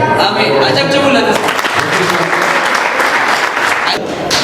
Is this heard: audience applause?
yes